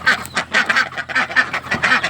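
Domestic ducks quack loudly and close, a rapid overlapping run of nasal calls that repeats without pause and carries no human voices.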